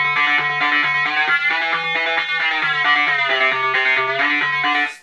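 A distorted, effects-laden instrument plays a steady repeating riff whose tone shifts in pitch, running continuously and loud with no voices.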